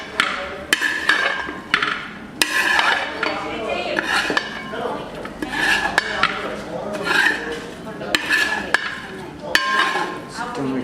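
A metal spoon scrapes and clinks against a pan while chicken is mixed into masala for a Kerala-style chicken roast, repeated sharp clanks in an irregular rhythm over soft background voices.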